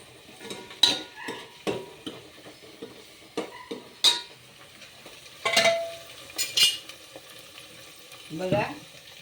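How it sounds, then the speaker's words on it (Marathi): Hot tempering with turmeric for urad dal sizzles in a pan while a spoon stirs and scrapes, bringing repeated clinks and bursts of frying at an uneven rhythm, close and clear. "चांगली कडक फोडणी द्यायची"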